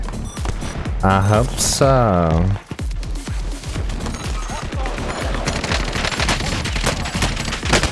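Rapid automatic gunfire in a shooter video game, crackling bursts running through most of the clip alongside a tonal sweep early on, with players talking over the shots.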